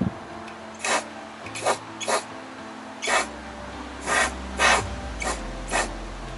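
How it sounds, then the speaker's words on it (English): Short bursts of aerosol anti-rust spray paint hiss into a drilled hole in the metal body of a 2022 Ford Transit medium-roof crew van, about eight separate close spurts with brief pauses between them. "gotta take some anti-rust paint, spray it in there"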